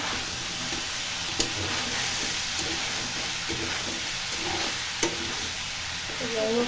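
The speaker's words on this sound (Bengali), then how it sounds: "যে কোনো গোস্ত রান্নার সময় একটু ভেজে নিলে গোস্তটা ছুটে যায় না" Meat for biryani sizzles steadily in hot oil, a constant crackling hiss with a couple of sharper pops, no voices.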